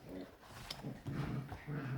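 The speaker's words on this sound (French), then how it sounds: "c'est les chiens qui jouent" Dogs play indoors, giving small growls, whimpers and yips in short bursts, faint and close with a low background hiss.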